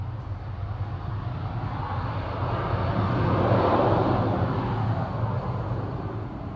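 A Qatar Airways airliner inbound to Manchester Airport, its jet engines a steady broad roar that swells to a peak midway and then slowly eases off, heard alone.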